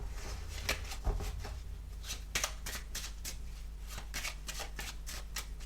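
Board game cards are shuffled close up in a quiet room, a series of soft, quick riffles and flicks repeating over a low steady hum.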